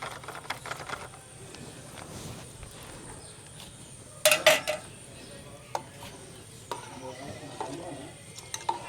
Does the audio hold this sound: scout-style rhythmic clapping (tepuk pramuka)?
no